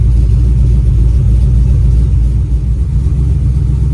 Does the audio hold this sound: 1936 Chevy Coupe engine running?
yes